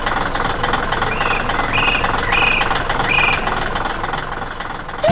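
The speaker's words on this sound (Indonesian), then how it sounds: "Tuh, mesin konstruksi oranye sedang bekerja di tepi sungai." An orange construction machine works by a riverbank in an animated scene: a loud, steady engine drone with a knocking idle and faint tonal chirps on top.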